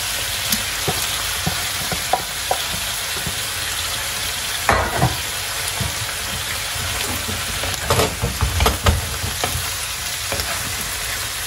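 Mushrooms and chicken gizzards with parsley frying in a pan over high heat, a steady loud sizzle with intermittent scraping stirs and clacks of a utensil, no voices.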